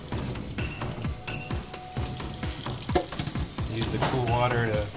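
Ramen noodles being rinsed and drained under a running kitchen tap, a steady water rush with clinks and stirring, while a voice talks over it.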